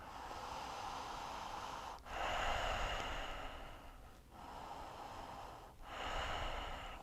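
Slow, deep breathing during a yoga flow, long airy inhales and exhales that swell and fade in a steady rhythm, close and soft.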